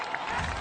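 A large crowd at a ninja-style obstacle competition in Indianapolis cheers in a brief, steady wash of noise, loud and close, with scattered shouts rising above the roar.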